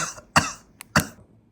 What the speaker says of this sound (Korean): 기침이 너무 나서